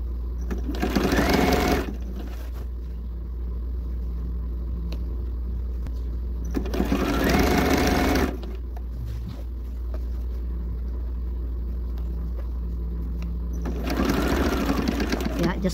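A Bernina 130 sewing machine hems thick denim jeans in three loud running bursts of steady motor whir, separated by pauses with a low hum and soft handling noise.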